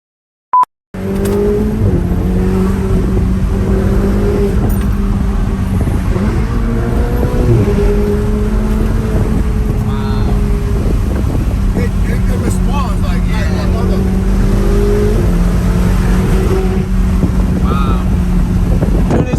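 A Ferrari 488 GTB drives on city streets, its engine droning steadily and loud throughout with shifting pitch as it accelerates, plus wind buffeting the microphone.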